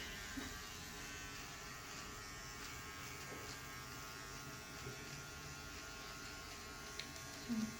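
An electric trimmer gives a beard a French cut with a faint, continuous close buzzing hum under low room noise.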